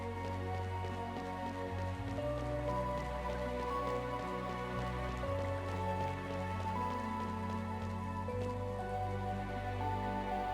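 Rain falling in the underground city of Tormund in the video game Chained Echoes, a steady soft patter laid over sustained musical tones throughout.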